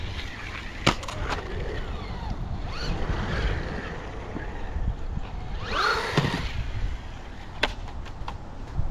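A DEERC H16E radio-controlled boat running on open water: a thin motor whine and splashing hull over constant wind and water noise, with sharp clicks and a louder surge midway, no speech.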